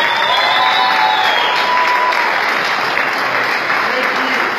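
An audience at an Allegiant airline announcement event applauds steadily and loudly, a dense, continuous wash of clapping that holds for the whole stretch with no one speaking over it.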